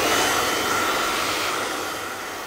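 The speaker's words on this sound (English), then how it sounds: "because I'm using this blow dryer" A handheld blow dryer runs during a directional salon blow dry, a steady loud airy whoosh that fades slightly toward the end, alone without talk.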